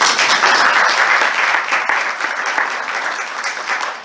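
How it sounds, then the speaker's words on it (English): A school board committee meeting gives a full round of applause, dense steady clapping from a roomful of people that gradually thins and fades over a few seconds, with no talk over it. "I'd like for our board to again give you a round of applause."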